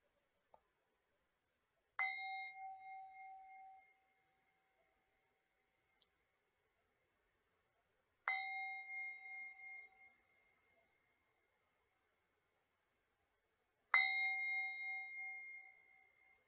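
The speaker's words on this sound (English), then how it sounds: "Let's begin today's celebration with some bells." Three separate bell strikes open a spiritual service, each a clear ringing tone that decays slowly over about two seconds, spaced roughly six seconds apart against near silence.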